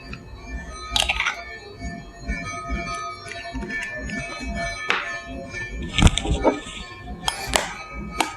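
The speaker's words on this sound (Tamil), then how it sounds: "இப்போது ஒரு பாத்திரத்தில் 2 எக்கு எடுத்துருக்கிறேன். இதை வந்து உடச்சி அதில் ஊற்றிக்கலாம்" Two eggs being cracked into a bowl: a handful of sharp, close taps and clinks of shell against the bowl's rim, spaced unevenly with quieter handling noise between them.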